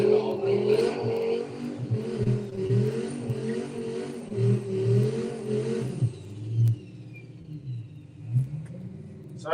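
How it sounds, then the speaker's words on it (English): An Audi RS3 tuned by DH Automotive revs and accelerates at a drag strip during a run-what-you-brung afternoon, a loud close engine roar that fades away after about six seconds, with faint voices over it. "So Dave Henderson with the Audi RS3 from DH Automotive."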